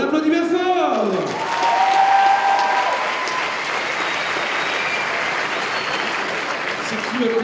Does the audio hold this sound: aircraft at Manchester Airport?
no